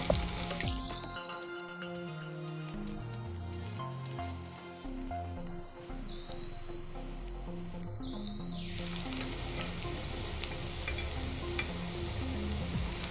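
Chopped onion sizzles in hot oil in a kadai for a street-style masala Maggi, a steady hiss rising partway through and fading after several seconds, with faint dripping crackles beneath.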